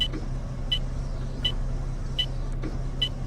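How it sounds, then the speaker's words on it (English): Inside a bus in the OMSI 2 driving simulator on a 20 mph route: a steady low engine hum fills the cabin while a bright tick, like an indicator or wiper, repeats roughly every three quarters of a second, with no talk. "The sounds on the bus are quite good."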